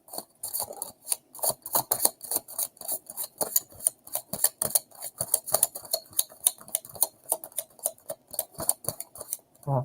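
Rapid, rhythmic crisp riffling and light slapping of tarot cards being shuffled, steady and close, continuing without pause and with no voices.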